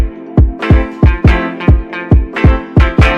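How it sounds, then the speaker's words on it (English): Jersey club drum pattern at 138 BPM, punchy kicks and claps in a bouncy syncopated rhythm with about ten evenly driving hits over a few seconds, loud and dry with no voices. "Typically, Jersey Club is at 138, so it sounds like this."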